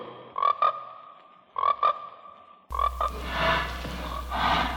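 Frogs croaking in the trailer for the film Frogs, with short paired croaks in two bursts, then a third croak as a noisy background bed of sound swells underneath.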